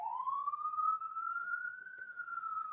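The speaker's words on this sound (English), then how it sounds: "I live in New York, and we have a lot of noise, a lot of sirens" A single siren on a New York city street rises and holds a steady wailing tone, fairly loud and continuous throughout with no talking.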